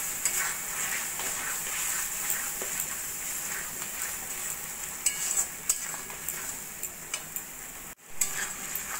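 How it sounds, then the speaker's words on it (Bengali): Spice masala of salt, turmeric, cumin powder and Kashmiri chili powder fries in a pan for chicken gravy, a steady close sizzle with occasional scrapes and taps of stirring. "এবার ভালো করে মশলাটা আমি কষিয়ে নেব"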